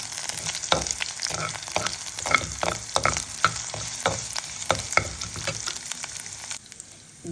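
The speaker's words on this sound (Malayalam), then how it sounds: "കറിവേപ്പില, വറ്റൽമുളക് ചേർത്ത് ഇളക്കാം." Curry leaves and dried red chillies fry in a pan and get stirred, making a loud, steady sizzle broken by repeated sharp scraping strokes that fade near the end.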